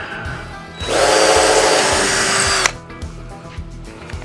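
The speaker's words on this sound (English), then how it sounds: "am pre-drilling these" A power drill pre-drills holes in cedar trim, one loud close burst of about two seconds that whines up and cuts off sharply.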